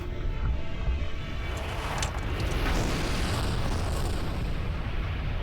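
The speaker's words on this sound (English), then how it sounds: "The massive explosion cleared the rubble blocking the magma chamber" Volcanic steam explosions at Kilauea crater in Hawaii, where collapsing rubble blocks the vent: a continuous deep rumbling roar with loud, sustained low booming and a few sharper bursts partway through.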